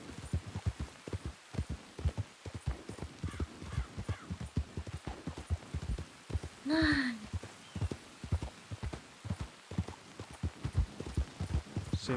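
Horse hooves clatter in a fast, even galloping rhythm in a ranch roleplay video game, soft and steady throughout, with a brief voice or call breaking in partway.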